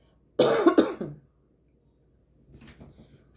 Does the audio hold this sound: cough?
yes